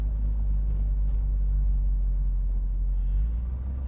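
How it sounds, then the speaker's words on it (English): Deep, steady exhaust rumble from a 1971 Chevrolet Corvette while driving, a loud, continuous low drone with no speech. "Listen to that exhaust. Man, this thing sounds tough."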